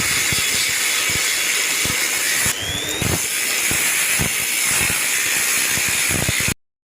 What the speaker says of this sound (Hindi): और हमें पाइप को यहाँ से काट लेना है।